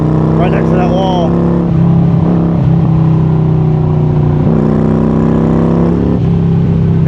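A 2013 motorcycle with a mostly debaffled exhaust rumbles steadily at close range, its engine note rising in a few short revs as it rides along beside a wall, with a loud continuous drone throughout.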